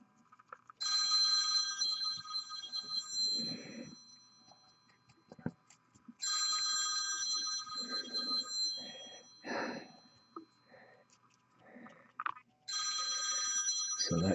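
A phone ringtone repeats in three long electronic ringing bursts with quieter gaps between them, close by in a quiet room, with faint sniffs and small handling sounds in the pauses.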